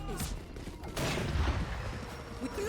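Rapid gunfire crackles through a Valorant esports match during an ace, a dense volley of shots over game noise with a caster's voice faintly underneath.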